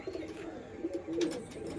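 Fulsira pigeons brought from Andhra coo softly at close range, a few low, brief calls in a quiet setting.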